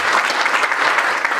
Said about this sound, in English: let's give them a big round of applause in advance for the conference